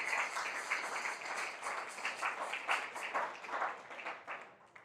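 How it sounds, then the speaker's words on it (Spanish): Dense, continuous applause from a church congregation, heard at moderate distance with a steady rolling texture throughout. "Dale un aplauso"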